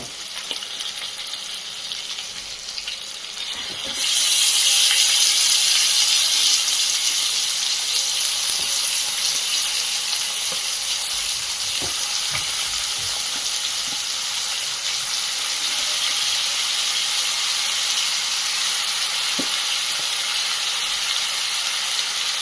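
Washed mutton is added to a hot pan for Guntur-style curry and sets off a loud, steady sizzle and hiss that stays constant at close range, with a few faint clinks and no voices.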